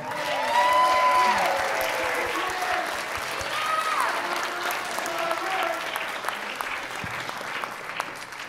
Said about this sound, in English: And an even bigger round of applause for all of our performers tonight.